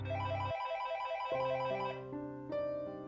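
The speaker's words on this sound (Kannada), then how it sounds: "ಆಗ್ಲೇ ಫೋನ್ ರಿಂಗ್ ಆಯ್ತು." A telephone rings with a repeating electronic ringtone, loud and close, its pitch pattern shifting over a few seconds with no voices over it.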